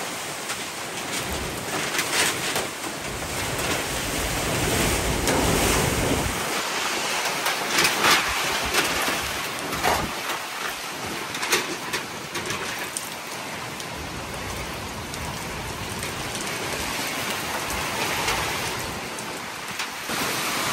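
Typhoon Uwan drives heavy rain and gusting wind against a house with a half-torn roof, making a dense, continuous roar that swells and eases in waves over twenty seconds.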